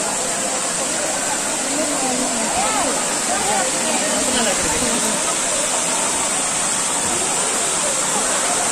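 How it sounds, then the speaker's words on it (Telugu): Steady broadband rush of water pouring down at Bhairawakona waterfall, constant and fairly loud throughout, with faint voices mixed in under the roar. "పై నుంచి పడుతున్నాయి కదా వాటర్."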